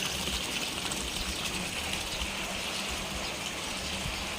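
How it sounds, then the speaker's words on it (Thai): Rushing water flowing after a short, heavy downpour fills the scene with a steady, dense broadband gush that stays constant and fairly close throughout, with no voices. "ดูดูดูน้ำไหล อ่ะ"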